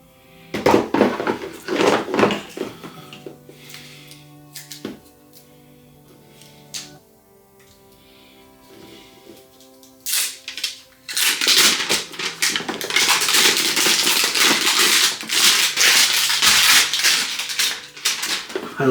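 Plastic wrapping is crinkled and torn off the 330-watt power brick of an Alienware X16 R1 gaming laptop. Scattered rustles come first, then a long, loud, dense crackle that runs close up and alone.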